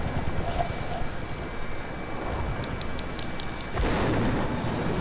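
Helicopter in an arena-style video game, a steady droning engine whir filling the scene that swells louder near the end.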